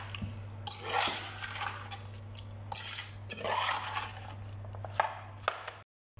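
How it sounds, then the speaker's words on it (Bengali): Spiced chicken liver and gizzard mixed in a pot: a spoon scrapes and clatters against the metal in irregular bursts, with a few sharper knocks and a steady low hum underneath. "দেখেন কাকা মিক্স করতেছে এখন"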